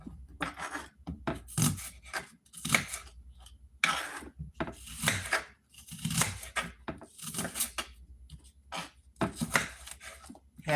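A knife chops an onion into chunks on a board, a run of sharp, uneven cutting knocks, close and fairly loud, with short pauses between strokes.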